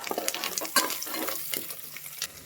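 Slit green chilies, coriander, mint and curry leaves with onions are stirred in a hot pan for tomato rice, with a light sizzle and repeated quick scrapes and clacks of a spoon, close and fairly quiet.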